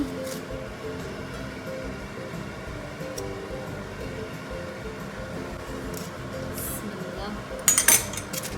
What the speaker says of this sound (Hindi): तो मैं मिक्स कर रही हूँ बिरयानी को